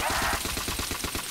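Rapid automatic gunfire from a gun in a custom zombies map game, a fast even string of about a dozen shots in quick succession, close and continuous for the whole burst.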